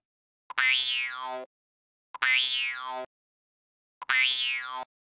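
Three identical sustained reedy jaw harp notes, each opening with a sharp little click at the attack from a fingernail striking the instrument, separated by short silences.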